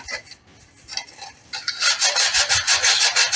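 Rapid, steady rasping strokes of sanding against the hard plastic lens of a solar outdoor light, starting lighter and then becoming a loud, even back-and-forth rhythm close by.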